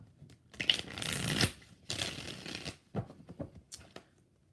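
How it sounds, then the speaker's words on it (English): Tarot cards are shuffled by hand in a quiet room: several brisk riffling bursts, the longest near the start, followed by shorter flicks and taps that fade away, close and without speech. "I got to shuffle it 2 more times"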